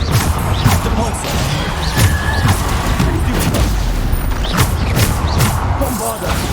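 Bombarda explosion spells in the video game Hogwarts Legacy go off as a rapid series of loud booms, crashes and thuds mixed with clanking game effects, close and continuous.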